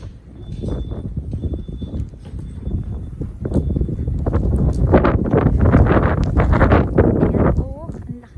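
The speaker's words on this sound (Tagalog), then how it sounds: "ang lakas ng hangin" Strong wind gusts through a Toronto snowstorm, blustery rushing and buffeting that builds toward the middle, with a voice speaking briefly near the end.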